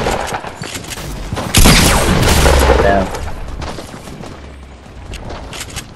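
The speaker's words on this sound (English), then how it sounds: "This guy's literally tapping with an SMG." Gunfire from an SMG in the video game Fortnite, with a burst of loud, dense shots lasting about a second and a half, then quieter intermittent game sounds.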